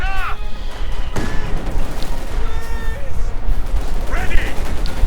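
A Maxim machine gun crew firing in Company of Heroes 2, dense battle gunfire and bursts running throughout under loud, continuous commentary.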